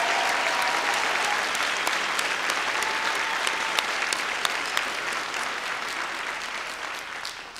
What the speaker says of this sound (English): Let's give everyone that's being celebrated today a round of applause.